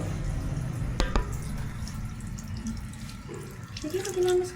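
Tap water runs into a sink during a face wash with foam, a close splashing stream with a few sharp clicks and a rising gurgle near the end, with brief voices nearby.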